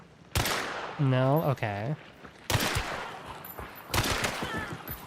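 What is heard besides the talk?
gunshots in a video game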